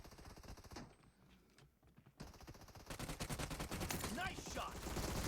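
Automatic gunfire rattles in the PUBG Mobile shooter game: a short burst, a brief lull, then dense rapid volleys building loud and continuous to the end.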